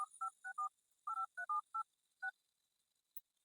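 Telephone number dialed on a keypad, a quick series of about ten short touch-tone beeps in an uneven rhythm, close and clear, followed by near silence.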